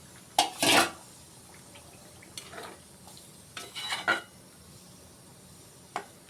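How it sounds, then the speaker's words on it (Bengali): A lid lifted off a pot of boiling eggplant and potato, giving a few sharp metallic clanks and scrapes against quiet kitchen background. "আমরা এখানে ঢাকাটা খুলে একবার দেখে নেব আমাদের বেগুন আলুটা কতটা সেদ্ধ হয়েছে।"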